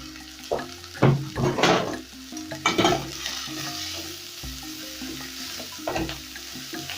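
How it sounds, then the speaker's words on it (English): Cabbage being sautéed and stirred in a pan for mukimo, with spoon scrapes and clatters over a steady sizzle and a few louder knocks, no talking. "Then I'm going to saute this till they turn translucent."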